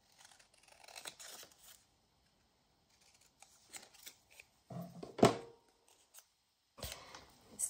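Scissors cut a piece of material in a quiet crafting setup, with faint, scattered snips and rustling, then a few sharper crunching cuts near the end, with no talking.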